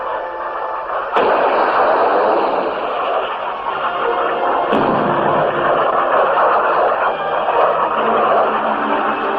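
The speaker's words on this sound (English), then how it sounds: "This is an American fighter bomber attacking a communist installation in Vietnam." An American fighter bomber attacks an installation in Vietnam, with a dense, continuous roar of gunfire and distant explosions, punctuated by two sharp blasts, heard alone in old documentary-style sound.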